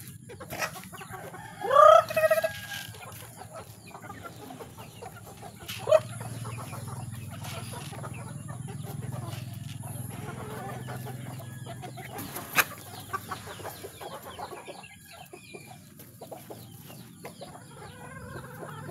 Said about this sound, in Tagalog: Yan pinapakain ko sa tandang.